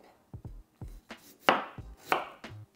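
Fresh ginger sliced with a knife on a cutting board, about eight crisp, close chops in an uneven rhythm with quiet gaps between strokes.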